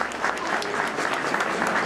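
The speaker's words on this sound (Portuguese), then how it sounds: "Vá lá, uma salva de palmas para ele." Crowd applause for the third-place finisher at a rally raid prize ceremony in Beja, a steady mid-loud patter of clapping hands that continues evenly throughout.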